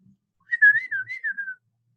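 A woman whistles in imitation of bird calls, a single clear warbling phrase of several rising and falling notes lasting about a second, close and alone in silence.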